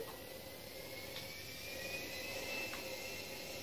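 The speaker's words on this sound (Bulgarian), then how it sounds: "Ето ни пак на летището с новия самолет, който ще пробваме с него да го направим." A fighter jet's engine drones in the video game GTA V, a faint, steady whine with a thin high tone, continuous and without talk.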